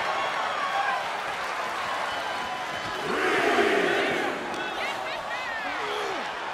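A video game arena crowd in WWE 2K24 roars and cheers through a wrestling match, a broad sustained wash of noise that swells midway, with a commentator's voice running over it.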